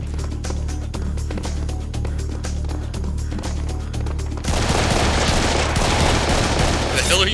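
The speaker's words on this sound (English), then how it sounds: "What the hell are you shooting at?" Rapid automatic gunfire fills a first-person shooter game, loud and sustained bursts over constant background hum, shifting into a denser barrage halfway through while players talk briefly.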